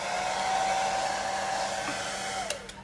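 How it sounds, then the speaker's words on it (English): A hair dryer blows bubbles out of acrylic pour paint with a steady high whine and airy rush close by, then cuts off near the end with a couple of small clicks. "today I decided I'm gonna use the hairdryer for this guy."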